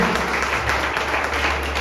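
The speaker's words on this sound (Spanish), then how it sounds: "Démosle un aplauso al Señor" Applause from a church congregation during a Spanish-language communion service, a steady, dense wash of clapping that fills the whole moment without a break.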